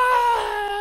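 A character in Super Mario Odyssey gives a short high-pitched scream, a single tonal cry that rises then wavers and tapers off within a second, with no one talking over it.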